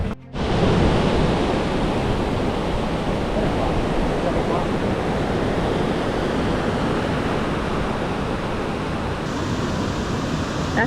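Sea waves at the beach in Puerto Villamil on Isabela island make a steady, loud, broadband roar of surf and wind with no distinct breaks, close and continuous throughout.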